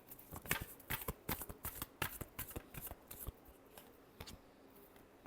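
Tarot cards are shuffled by hand in quick papery riffles and flicks, irregular and faint, with no voices.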